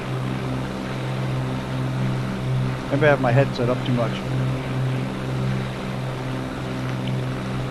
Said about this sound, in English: I love the 414, but is it just me, or does that engine sound like really loud tonight?